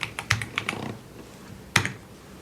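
Keys clack on a computer keyboard while a network switch is configured, with a quick burst of several close taps and then a single firm keystroke after a short pause.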